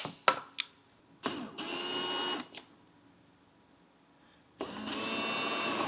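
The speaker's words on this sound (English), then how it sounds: "We'll go ahead and drill these out." Step drill bit boring holes in a Ski-Doo Gen 4/5 nosecone cover, with a few sharp clicks and then two sustained high whining drill runs separated by quiet pauses, close and alone.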